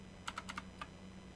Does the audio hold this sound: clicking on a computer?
yes